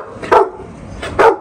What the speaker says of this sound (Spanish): Es un perrito que está...